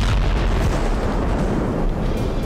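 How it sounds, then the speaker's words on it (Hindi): A loud, continuous low rumbling boom of an explosion at an ammunition depot after a guided missile strike near Artemivsk during the war in Ukraine, filling the whole stretch with heavy roar and no voices. "छोटे से वाहन से गाइडेड मिसाइल फायर की गई और चंद सेकंड बाद एक जोरदार धमाका हुआ।"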